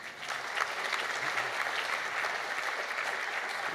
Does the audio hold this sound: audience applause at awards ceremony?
yes